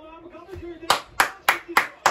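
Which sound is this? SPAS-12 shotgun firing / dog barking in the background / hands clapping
hands clapping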